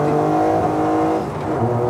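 A hydrogen-engine Toyota Corolla race car revs loudly and close by, its pitch climbing and dipping in a brief surge of acceleration.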